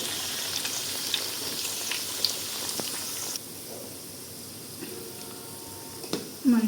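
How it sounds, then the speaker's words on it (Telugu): Vegetable Manchurian balls deep frying in hot oil until brown, a steady close sizzle and crackle that drops to a quieter bubbling halfway through, with faint stirring noises. "బ్రౌన్ బ్రౌన్ వచ్చే వరకు ఫ్రై చేసుకొని పక్కన పెట్టుకోవాలి"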